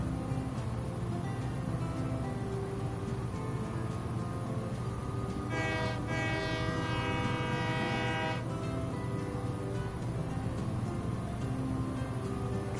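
Train horn in a train video game sounds one sustained, loud blast of about three seconds in the middle, over a constant rumble of the rolling train.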